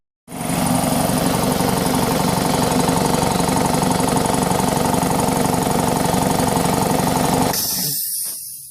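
A 25-gallon air compressor runs loud and steady for about seven seconds with a rough, even motor drone, then cuts off abruptly, leaving a brief fading hiss.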